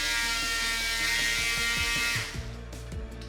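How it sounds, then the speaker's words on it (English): A Dremel rotary tool grinds down a plastic bumper on a Subaru Impreza 2.5RS (GC8) where the license plate bracket was, a steady high whine that runs loud and continuous for about two seconds before the tool spins down. "this is what I'm using to kind of Dremel down, flatten everything out"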